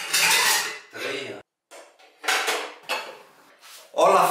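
Dishes, plates and cutlery clatter and clink as they are handled in a kitchen, in several loud bursts separated by short pauses.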